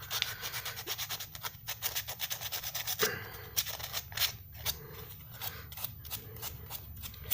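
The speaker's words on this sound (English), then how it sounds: "I'll sand and I'll trim and I'll smooth and look at it and do some more sanding" Steady scratchy rubbing strokes, close and continuous, with quick rasping back-and-forth hand sanding of a small frog model.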